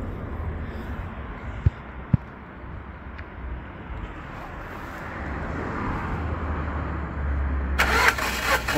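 A Lada Granta engine cranks on the starter with the ignition off and the throttle held wide open during a compression test. The churning is steady and close, growing slightly louder and harsher near the end.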